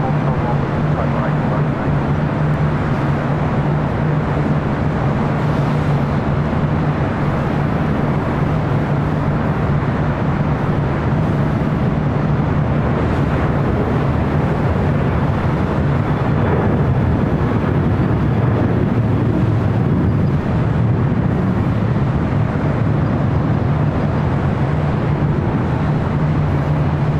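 A China Airlines Boeing 777-300ER jet rumbles steadily at LAX, a loud continuous engine roar with a low hum that swells slightly toward the end, heard alone without voices.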